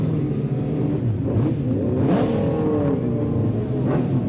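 A racing sidecar outfit's engine howls past at the Isle of Man TT during qualifying, a loud continuous roar with rising and falling pitch as it passes, heard without talking over it.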